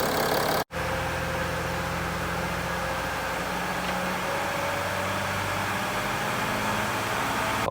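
A diesel car engine idling with a steady, even drone and hum, close and constant, interrupted by a brief dropout near the start.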